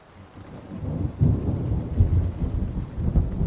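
Low rumbling thunder rolls under a steady wash of rain, swelling in a few heavy surges.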